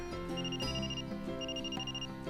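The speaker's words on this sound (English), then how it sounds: "I checked my phone screen and noticed an incoming call from Aoi." A phone in a visual novel game rings with an incoming call, a bright repeating electronic ringtone pattern of tonal bursts pulsing in a steady rhythm, clear and alone.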